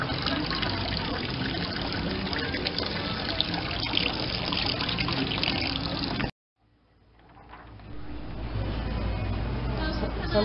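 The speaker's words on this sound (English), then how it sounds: "so we've got to rinse that off" Water rinsing paint off at a county fair, a loud steady hiss of running spray that cuts out abruptly, then builds back up from a faint trickle to a full rush.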